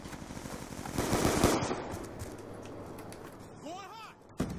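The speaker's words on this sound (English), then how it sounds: "Just a clusterfuck of bullets." Heavy automatic gunfire in Call of Duty Black Ops 2 on the Vertigo map, a sustained, loud clatter of overlapping shots that peaks and then fades, with a few sharp single cracks near the end.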